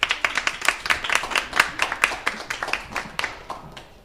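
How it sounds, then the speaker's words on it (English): A crowd claps steadily for several seconds, a dense patter of many hands at fairly close range with no voices over it. "Let's give her a round of applause."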